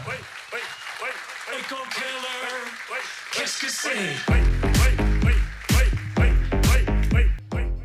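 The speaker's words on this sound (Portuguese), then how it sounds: "Uma salva de palmas para o nosso amigo Marcos da Fiedler." Applause from a congress audience at a boiler safety and efficiency talk, mixed and faint at first, then giving way to a louder stretch where a voice and music-like tones come through over the clapping.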